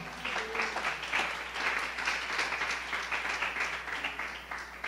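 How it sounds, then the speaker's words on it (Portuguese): A church congregation at Igreja de Nova Vida do Catete applauds during a Sunday evening service, a steady wash of many hands clapping, fairly soft and distant, with no pauses. "Você pode aplaudir ao Senhor com o seu melhor?"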